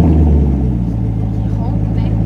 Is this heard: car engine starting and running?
yes